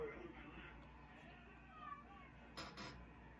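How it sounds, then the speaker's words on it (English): Cats meow from a video playing in a room, with a couple of short, high meows near the end over faint background noise. "I don't know why my dad is watching cats meowing."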